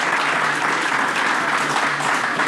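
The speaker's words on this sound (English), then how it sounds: "Let's give him a round of applause." Sustained audience applause from a studio crowd, a dense, even wash of clapping that holds steady at full strength for the whole stretch.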